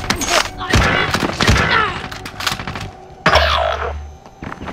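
Rapid gunfire bursts in the Warzone video game, loud cracks and thumps clustered through the opening seconds, then a deep rumbling boom with sustained low roar, with a voice speaking over the action.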